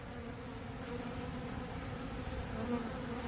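Dense, continuous buzzing of a honeybee swarm close by, a steady droning hum with no voices.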